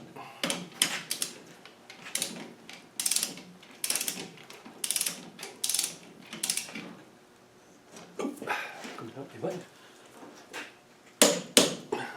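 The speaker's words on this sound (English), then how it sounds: "we always torque it back down" A torque wrench tightens bolts on an LT230 transfer box differential to 60 Nm in a diagonal pattern, giving repeated close bursts of ratcheting clicks between short pauses and the odd clunk of metal.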